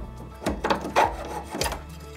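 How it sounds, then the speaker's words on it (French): A coping saw cuts through a workpiece with several rough back-and-forth strokes, close and fairly loud, in uneven rhythm with no talking. "Donc je vais venir insérer mon boc-fil et je vais découper à ce niveau-là"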